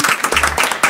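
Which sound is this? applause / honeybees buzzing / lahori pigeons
applause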